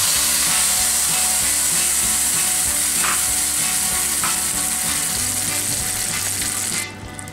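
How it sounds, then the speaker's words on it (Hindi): Tamarind pulp goes into a hot pan of crackling mustard seeds, cumin and carom for imli chutney, giving a steady, loud, dense sizzle with stirring clinks throughout, easing off near the end. "जैसे ही राई, जीरा और अजवाइन फूटने लगे उसके बाद आप इसमें इमली का पल्प डाल देंगे"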